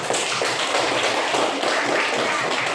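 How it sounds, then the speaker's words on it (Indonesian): Junior high students at SMP Negeri 2 clap for a classmate in a Kupang classroom, a dense burst of many hands clapping together, close and steady throughout. "tepuk tangan dulu untuk Vino"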